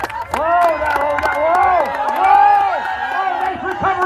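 A lively crowd at a timber show cheers and whoops for log rollers, with shouts and bursts of voices rising and falling, loud and close, mixed with excited calls.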